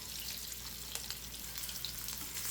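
Eggs fry in oil in a pan, a soft steady sizzle with occasional faint pops and a light scrape or two, fairly quiet and close with no talk.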